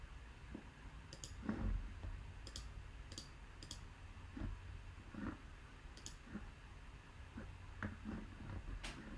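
Several sharp mouse clicks ring out while a web shop's login and wishlist page is tested, each brief and separate over a low steady hum with no voice.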